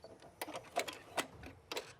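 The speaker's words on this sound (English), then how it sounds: "That was the thread cutter." Janome Memory Craft 6500P cast-steel sewing machine cutting its top and bottom threads with a thread cutter, heard as a quick series of close, crisp mechanical clicks and ticks over a quiet background.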